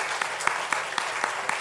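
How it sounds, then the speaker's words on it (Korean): A church congregation claps during a Sunday worship service, a steady patter of many hands with a few sharper claps standing out, fairly even throughout. "우리 박수로 한번 격려하겠습니다."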